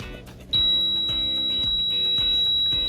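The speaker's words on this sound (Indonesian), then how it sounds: "sehingga buzzer dan lampu LED-nya menyala" A buzzer alarm on a strain gauge structural health monitoring prototype switches on and holds a steady, loud, piercing electronic tone over a low background hum.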